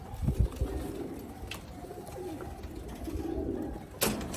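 Pigeons coo softly on a rooftop loft of Sialkoti pigeons, with a few wing flutters near the start and a burst of movement near the end, nearby and unaccompanied by talk.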